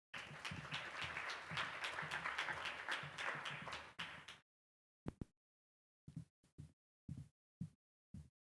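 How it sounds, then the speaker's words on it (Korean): A congregation at a church youth service applauds as a pastor comes on stage: about four seconds of dense, loud clapping, then a few scattered, separate claps trailing off into silence. "우리 목사님 나오실 때에 크게 박수하면서 목사님 맞이하도록 하겠습니다."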